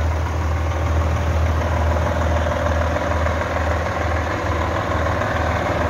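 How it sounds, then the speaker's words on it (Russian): An old car nicknamed the Terminator idles steadily with a low, smooth rumble and a faint mechanical purr, close and continuous with no talk over it. "Мотор журчит, шепчет."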